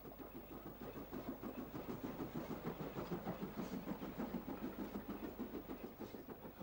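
A Southern Railway West Country class steam locomotive, arrived from Padstow in North Cornwall, gives a faint, steady rhythmic beat under a low rumble.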